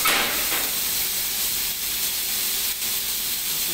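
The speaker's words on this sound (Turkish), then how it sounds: "Bu kadar düşünce artık şöyle kenarına az bir tereyağı" Butter sizzling in a hot pan beside a steak, a steady close hiss with faint crackles running throughout, with no talking.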